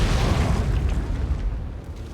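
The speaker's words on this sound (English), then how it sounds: "Nice explosion." An explosion in the video game Outer Wilds: a loud, dense, rumbling blast that roars without a break for about two seconds, then eases off slightly toward the end.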